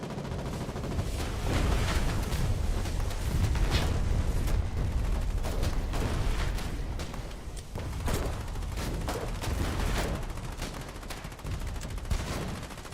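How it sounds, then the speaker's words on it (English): Dense gunfire and heavy bomb blasts rumble from a seaport under attack in the war video game Foxhole, a constant loud barrage of shots and booms with no speech. "Oh, they're bombing the seaport."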